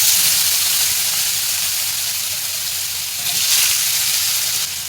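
Cut potatoes frying in hot oil after fish has been fried, a steady loud sizzle and hiss close by that swells briefly near the end, with no talking.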